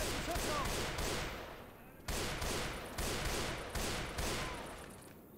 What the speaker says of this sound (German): Hey, da vorne ist ein Schuss